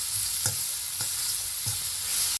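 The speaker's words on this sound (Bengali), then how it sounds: "চিকেনটা ভেজে নিয়েছি, আলুর পাশে এটাও তুলে নেব।" Chicken pieces fry in a pan for a chicken-stuffed pitha, giving a steady, close sizzle with a few soft stirring scrapes at regular intervals. No one speaks.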